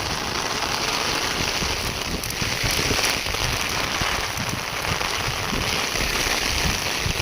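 Monsoon rain falling on fields and climbing vines, a dense continuous patter of drops close by with a few sharper crackling hits, no voices.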